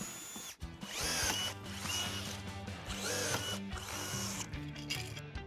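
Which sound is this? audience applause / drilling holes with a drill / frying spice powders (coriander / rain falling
drilling holes with a drill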